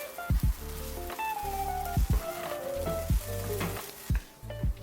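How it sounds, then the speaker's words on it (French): Crumbled tofu fries in oil in a pan, a close crackling sizzle broken by several sharp knocks and clatters of a utensil against the pan. "je fais dorer le tofu émietté quelques instants"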